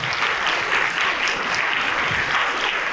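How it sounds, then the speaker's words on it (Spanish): Strong audience applause fills the room at the close of a talk on television, steady dense clapping throughout with no voices. "Fuerte ese aplauso."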